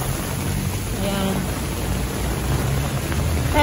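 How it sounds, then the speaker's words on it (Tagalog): Heavy typhoon rain pours in a steady loud roar of broadband noise throughout, with a voice speaking briefly over it. "sana tumigil na itong ulan nito"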